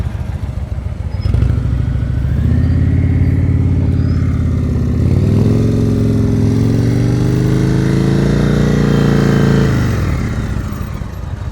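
Motorcycle engine idling and pulling at low revs during slow-speed riding practice in Ohio, a steady close rumble that rises as the bike moves off and settles before fading.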